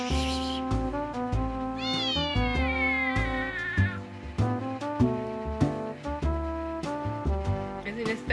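A kitten meows repeatedly and insistently, loud and close, with several drawn-out rising and falling cries in quick succession.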